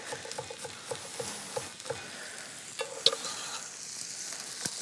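Garlic sizzles in a hot pan with potatoes being cooked, a steady close crackling hiss broken by small pops and stirring scrapes, one sharp crack near the end, with no talking.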